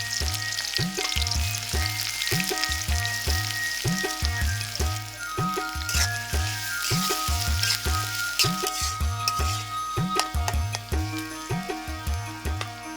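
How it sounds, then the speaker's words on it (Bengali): Chopped onion sizzles and crackles in hot oil in a wok while cooking duck curry, a continuous frying hiss broken by a regular, rhythmic knocking of stirring strokes every half second or so. "কড়াইয়ের গরম তেলে প্রথমে পেঁয়াজের কুচি"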